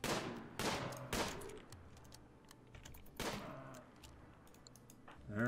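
Bursts of gunfire from colonists in the RimWorld video game, several sharp volleys in quick succession with a pause, then a louder burst at the end, no voices heard.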